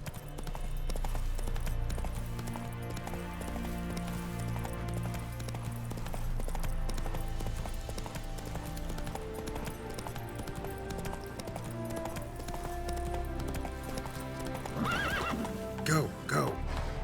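Geralt's horse Roach galloping in The Witcher 3, with continuous rhythmic hoofbeats and a neigh, mixed with game music and ambience, and a louder jolt near the end.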